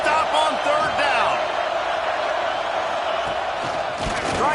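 A football stadium crowd roars and cheers on a third-down play, a loud sustained wash of voices with whoops rising at the end, and a commentator talking over it.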